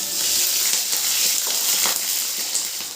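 Whole cumin, bay leaf, dried red chillies and green chillies frying in hot oil, a steady loud sizzle throughout with a few brief crackles and stirring clinks, no talking.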